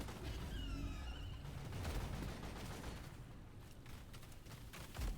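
Rapid bursts of gunfire in a video game during a firefight with friendly fire, dense crackling shots sustained throughout at moderate level, with a louder pop near the end.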